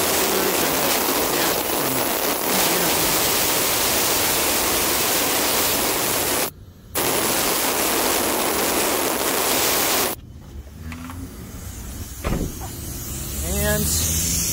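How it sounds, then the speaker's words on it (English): Pressurized air hose at a Tidal Wave Auto Spa car wash vacuum station blasting a loud, steady hiss of air, cut off briefly twice, with a voice speaking near the end. "Use the pressurized air here."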